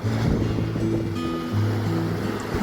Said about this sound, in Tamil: அலைகளோடு அலைகள் எப்படி வருது பாருங்கள்